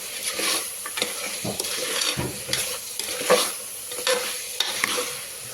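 Fenugreek mutton curry being stirred in a pan, with a steady scraping of the spoon over a low sizzle and occasional louder clinks against the metal, heard up close with no talking.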